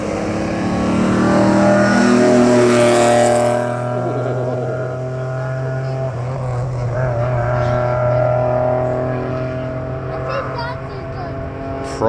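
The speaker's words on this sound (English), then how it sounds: "Here comes the Alfa Romeo 155." An Alfa Romeo 155 race car engine roars past close by at a hillclimb event, loud and revving hard, then fades into a lower drone as it moves away, with people talking underneath.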